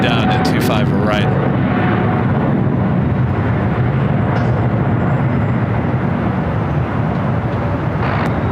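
An Aeromexico Cargo airliner in all-white livery takes off down runway 25R at LAX, a loud, steady jet roar that fills the whole stretch, with a person talking over it.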